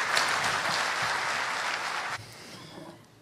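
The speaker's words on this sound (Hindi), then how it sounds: "कृपया जोरदार तालियों के साथ स्वागत करें" Loud audience applause welcoming the chief guest, a retired Air Marshal, at a formal Hindi-language lecture event; dense steady clapping for about two seconds, then cutting off abruptly into a quieter, fading patter.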